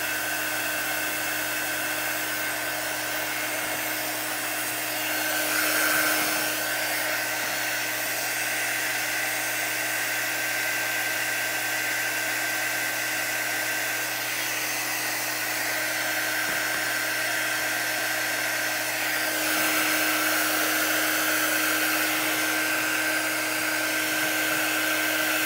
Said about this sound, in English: Over to my heavy duty dryer here. speed up the drying a little bit.